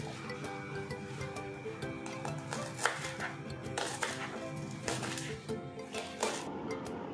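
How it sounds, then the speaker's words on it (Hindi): Finely chopping the white part of a spring onion with a knife, a steady run of quick, close cuts against a board, with a low hum underneath. "ये जो वाइट वाला पार्ट है इसको बारीक कट कर लेना है।"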